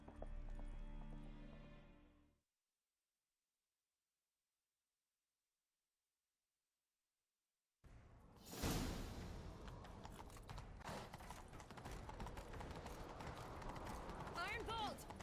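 Horses gallop in the video game The Witcher 3, rapid clip-clop hoofbeats with a neigh, starting after a stretch of silence and running on beneath music, effects and spoken dialogue.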